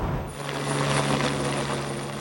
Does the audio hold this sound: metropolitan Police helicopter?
yes